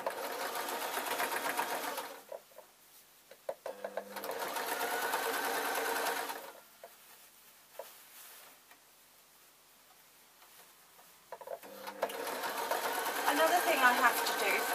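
Sewing machine stitching a wool office-style work dress with pleat detailing, running in several steady bursts of a few seconds each, separated by quiet pauses with faint handling noise.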